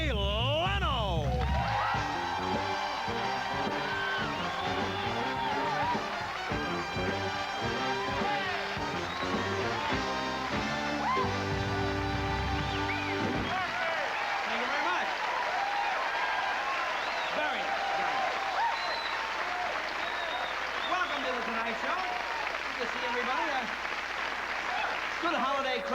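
Studio audience applauding and cheering for Jay Leno as he takes the stage on The Tonight Show, a dense sustained roar with music playing over the first half, then steady clapping with scattered whoops continuing alone.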